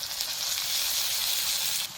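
Ginger and garlic fry with potato and tomato in a hot pan, giving a loud, steady hiss of sizzling oil that runs unbroken and stops abruptly near the end.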